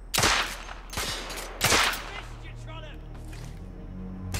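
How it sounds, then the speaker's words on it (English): Gunfire from the video game The Order: 1886, with three sharp, loud shots in quick succession followed by a ringing tail and fainter game effects. "I just shot him right in the fucking head, mate."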